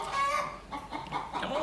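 Chickens clucking while feeding on loose hay and grass on a rainy day, several close, overlapping clucks and throaty calls in quick uneven bursts.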